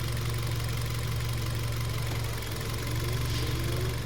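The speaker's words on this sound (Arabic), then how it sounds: "شغلت السيارة وهستنى لحد ما تسخن والمراوح تشتغل" A car engine idles while warming up until its cooling fans come on, holding a steady, even low hum throughout with no talk.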